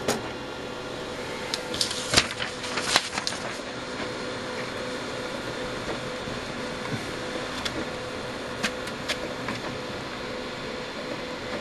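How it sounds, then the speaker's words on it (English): An office printer attached to a LeCroy WaveRunner 64Xi oscilloscope hums and whirs continuously at moderate volume, with occasional faint clicks and ticks and no talking. "As you can see, the printer is fired up."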